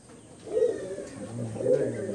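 Pet pigeons, a single-tail Bondhu breed with feathered feet, cooing softly in two low rounded phrases close by, with faint background noise.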